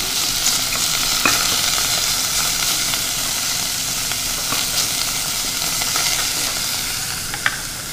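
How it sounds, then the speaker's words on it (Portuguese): Beef sears in a very hot pan, a steady loud sizzle and crackle running continuously with small pops and spits scattered throughout, no voices. "a panela muito quente para a gente selar bem a carne"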